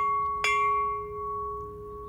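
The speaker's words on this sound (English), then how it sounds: "Here's a little video of how our newest bell sounds." A newly acquired bell is struck once, giving a sharp metallic hit followed by steady, sustained ringing tones that hang on alone without fading much.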